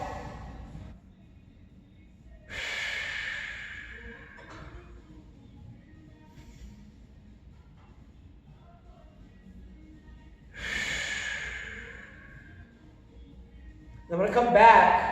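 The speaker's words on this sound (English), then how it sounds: "Big inhale." A big inhale taken during a banded shoulder stretch, heard as two breathy rushes of air close by, each lasting about a second and separated by quiet pauses.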